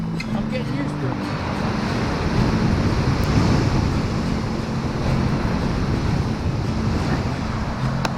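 Strong sea waves roll and wash continuously along the Holderness coast below a cliff at Hilston, a dense, loud roar mixed with steady wind buffeting the microphone.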